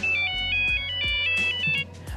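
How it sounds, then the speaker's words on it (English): Nokia mobile phone ringtone, its familiar bright electronic melody playing as a quick run of chirpy synthetic notes, clear and fairly loud, heard alone without voices. "the Nokia ringtone,"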